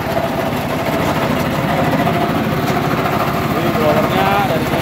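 A dry coffee husking machine with its blower runs steadily and loudly, a constant mechanical drone with rattling and airy whoosh throughout, close by and without pause.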